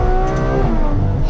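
A Ferrari 812 Competizione's engine roars loudly up close during a drive, its rich induction noise swelling and shifting in pitch as the revs climb, with no voices.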